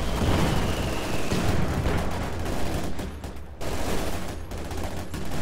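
Dense battle noise from a strategy video game, rapid continuous gunfire and rumbling incendiary barrage blasts, loud and unbroken with a brief dip before resuming.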